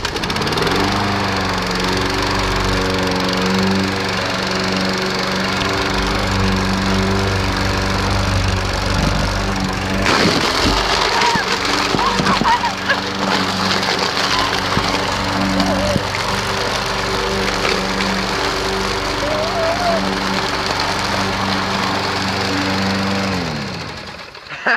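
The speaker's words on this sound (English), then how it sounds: "we're gonna start the lawnmower like we did in the Psycho Kid Shreds homework video, and then we're gonna drive over that" A running lawn mower drives over and shreds a high school math warm-up book, its engine droning loud and steady throughout with a brief rougher, gritty burst of chewing paper partway through.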